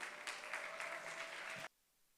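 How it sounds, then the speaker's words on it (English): Audience applause breaks out to welcome a speaker at a wealth summit, a dense steady clatter of many hands that holds for about a second and a half and then stops abruptly. "celebrate him with a round of applause"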